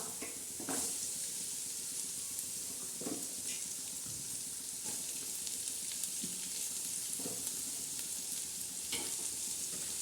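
Onion frying in tempered oil for a simple biryani pulao, a steady, soft sizzle and hiss throughout, broken by occasional stirring scrapes and clicks of a utensil against the pan.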